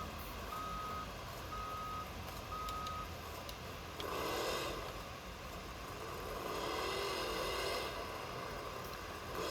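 Monster truck reversing in a BeamNG monster jam stadium event, its steady repeating backup beeps clear at first over a constant engine drone, then a rising engine roar surges twice.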